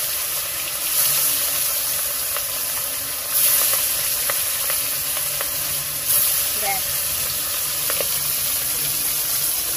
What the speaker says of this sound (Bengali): একদম ভালো করে ছাকা তেলে একটু কড়া ভাবে ভেজে নেব।